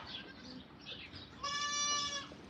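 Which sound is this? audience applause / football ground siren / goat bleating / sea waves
goat bleating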